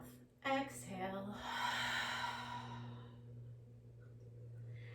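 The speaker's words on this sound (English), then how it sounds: "Open the mouth. Exhale." A group of people exhale together through open mouths at the end of a vinyasa yoga class, a long breathy rush that swells and slowly fades over a low steady hum.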